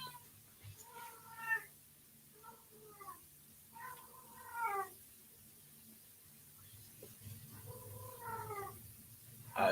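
A cat meows repeatedly, close by, in several drawn-out wavering calls spread over about ten seconds with quiet gaps between them and a faint room hum beneath.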